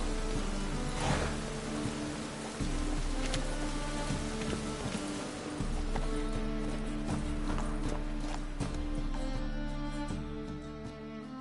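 Roach, a horse in The Witcher 3: Wild Hunt, clip-clops steadily along an estate road near Novigrad, hooves close and regular over a continuous bed of game music and ambience.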